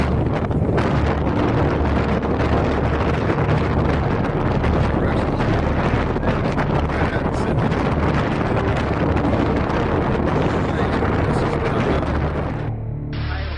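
Strong storm wind near Fort Worth, Texas, roars and buffets the microphone in a loud, constant, close rush that ends abruptly near the end.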